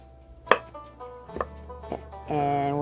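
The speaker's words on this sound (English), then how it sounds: "now we're going to rough cut this garlic" A kitchen knife rough-chops garlic on a board in a few separate, spaced chops, with soft kitchen noise and a sizzling pan coming up at the end.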